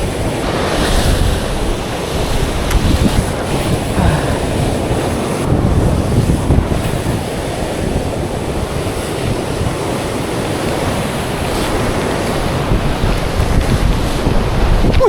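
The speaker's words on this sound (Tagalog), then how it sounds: "Napakalakas ng agos niya guys." A strong sea current churns with waves and surf at a rough coastal fishing spot, a loud continuous rushing roar with wind buffeting the microphone and no voices.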